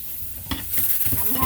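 Okra coated and frying in a pan of hot oil, a close, steady sizzle with stirring scrapes layered over it, growing a bit louder partway through.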